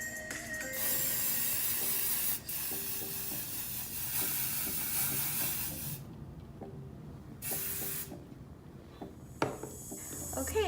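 Hairspray misted onto hair freshly curled with a hot curling iron for Hollywood waves, a few long, close hissing sprays with short pauses between them and faint handling noises.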